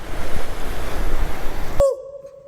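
Sea waves wash on both sides of a coastal road near Ayekere bay, a continuous rushing surf mixed with wind buffeting, before cutting abruptly to near silence with a brief tone.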